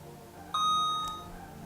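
A DJI Ronin-S gimbal powering on gives a short, clear electronic beep with a brief tone that rings on for about half a second, close and alone over a quiet room hum.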